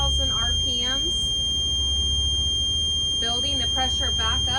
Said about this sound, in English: In between 60 and 70 psi, the low air pressure alarm will shut off